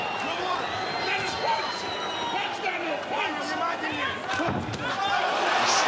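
A boxing arena crowd roars and cheers in a dense, sustained swell after a heavyweight's left hand lands, with shouts and claps rising throughout and a ringside commentator talking over the noise.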